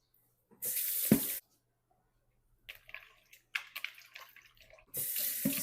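Running tap water splashing over mutton pieces being washed in a kitchen sink, two loud bursts of flowing water separated by quiet, with soft handling and squishing sounds between them.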